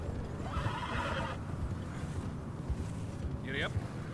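Horse in Red Dead Redemption 2 giving one sharp, rising whinny near the end over steady wind and hoofbeats, with talk in the scene.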